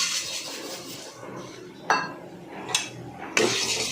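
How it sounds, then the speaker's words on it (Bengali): Mung dal being dry-roasted and stirred in a pan, with a soft rustling hiss punctuated by three sharp metallic scrapes or clinks of a spoon against the pan, close by. "ডালটা এখন ভেজে নিচ্ছি"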